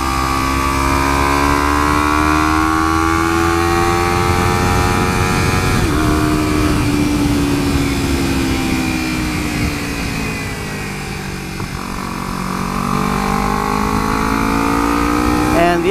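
A Kawasaki Ninja 300 motorcycle engine runs loud and close, its tone sweeping upward as it accelerates, dipping briefly, then climbing again through the gears.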